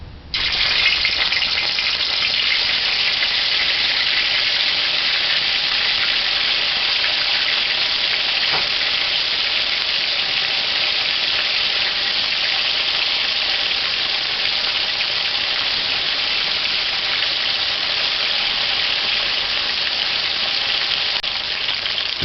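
Boiled dumplings fry in a hot pan with a steady, dense sizzle that holds evenly loud and close throughout, with no voices.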